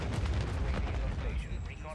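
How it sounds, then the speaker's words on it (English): Heavy booming blasts and rumbling detonations from a cruise missile strike in a military shooter video game, dense and loud throughout with a voice-like layer mixed in. "Friendly cruise missile approaching target."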